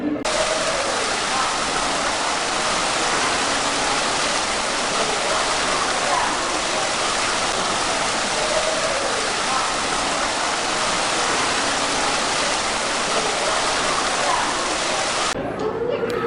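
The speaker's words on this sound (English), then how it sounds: "this whole lobby was covered with that waterfall" A large indoor waterfall in a Polynesian resort lobby at Disney World roars steadily, a loud, dense, continuous rush of falling water that fills the space without pause.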